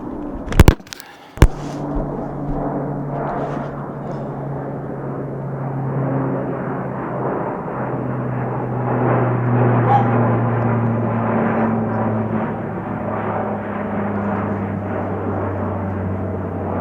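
An airplane drones overhead in the wilderness, a low steady engine hum that swells and fades gradually after a couple of sharp knocks at the start.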